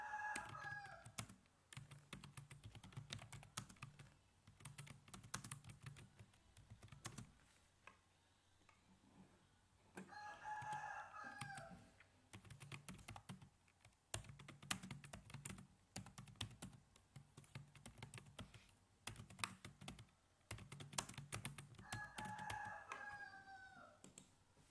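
Fingers type on a computer keyboard in irregular bursts of close clicks, while a rooster crows three times in the background.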